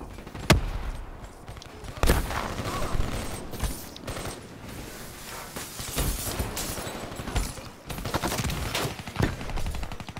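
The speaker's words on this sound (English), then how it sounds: "I'm just gonna get at the shotgun." Shotgun blasts and surrounding gunfire in a Black Ops 3 multiplayer match, a string of sharp irregular shots over constant noisy game action, with several louder bangs standing out.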